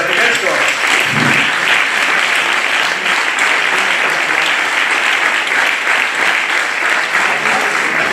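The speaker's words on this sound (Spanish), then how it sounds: "Un aplauso para toda esa gente." Audience applause fills a talk hall, steady dense clapping from a crowd that continues loud and unbroken throughout, with faint voices mixed in.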